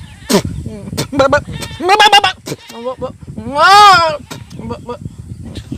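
A voice imitates a billy goat's bleating, with several short bleats and one long wavering bleat, loud and close, mixed with brief vocal sounds.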